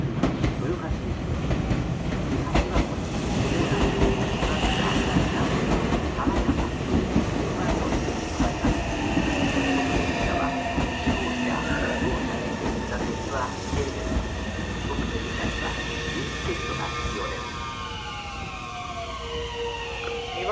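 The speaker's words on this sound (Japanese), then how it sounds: "まもなく2番線に電車が参ります。" A Meitetsu 2200 series limited express train bound for Toyohashi pulls into platform 2 at Inuyama Station on the Inuyama Line, a steady loud rumble with rail clatter and rising brake squeals near the platform, with a station announcement audible over it.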